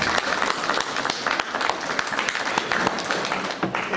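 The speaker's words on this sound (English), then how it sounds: "Let's give Baba Oshi a round of applause." An audience at a community power summit in Atlanta breaks into a round of applause, dense steady clapping filling the room for several seconds without letting up.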